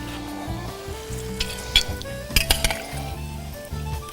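Turbot fillets laid into hot oil in a pan hiss with a steady frying sizzle, punctuated by a few sharp clinks of utensils against the pan.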